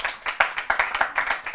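A theatre audience claps in uneven, rapid bursts for several seconds during a French comedy show, a brisk patter of many hands rising and falling close to the stage with no talking over it.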